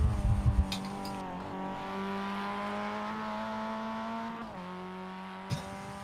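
Race cars lap Virginia International Raceway in an iRacing endurance event, engines droning steadily with layered harmonic whine, a brief rumble of passing cars at the start and a short bump near the end, with no talk.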